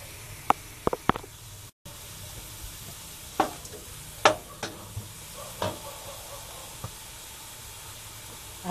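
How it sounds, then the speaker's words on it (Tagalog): Shrimp sizzle and fry in a hot pan for Filipino pancit buko, a steady crackling hiss broken by scattered stirring clinks and pops, with no talking. "Lalagyan na natin ang ating hipon."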